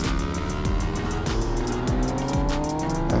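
A 2022 MV Agusta Brutale 800RR motorcycle accelerates hard, its engine revving up through several rapid gear changes in a loud, close, continuous snarl with rising pitch sweeps.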